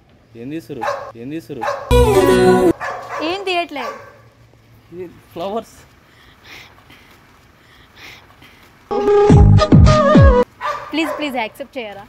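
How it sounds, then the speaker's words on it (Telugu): A dog barks in short bursts, loud and near, twice breaking through between stretches of people talking. "బాగుంది, కుక్క కూడా అరుస్తుంది."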